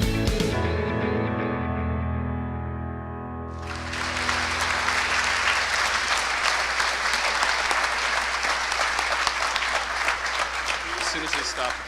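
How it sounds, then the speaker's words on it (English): An audience at a community employment luncheon breaks into loud, sustained applause after a held musical chord fades, the clapping dense and even to the end. "As soon as they stop applauding"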